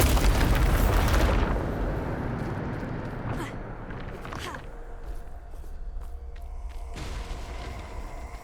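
Bombarda explosion spell in the video game Hogwarts Legacy: a loud roaring blast that dies away over a few seconds into rumbling debris, with a few faint crackles and pops afterward.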